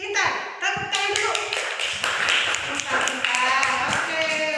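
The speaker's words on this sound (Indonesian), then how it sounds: "Tepuk tangan dulu." A classroom of children claps hands together in a dense burst of rapid claps and taps that runs across the whole stretch, with some children's voices mixed in.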